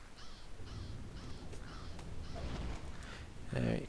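Harsh repeated bird caws, about five crow-like calls in a row, come from an attacking bird in the video game Skirmisher of Middle-earth, moderately near, with a voice speaking partway through and a louder burst at the end.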